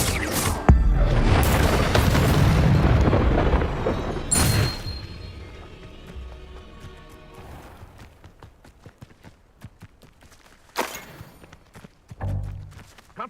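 Confringo fire spells burst during Hogwarts Legacy combat. Several loud booming explosions land a few seconds apart, with quieter thuds and steps in between that fade to near stillness before the last blasts.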